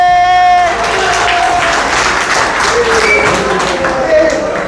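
A short spoken call gives way to a burst of clapping from a workshop group, rapid and scattered, continuing loudly to the end.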